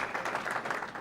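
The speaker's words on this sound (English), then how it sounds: "we applaud them." An audience at an Oregon Sports Hall of Fame event applauds scholarship winners, a brief steady wash of clapping from a crowd at moderate distance.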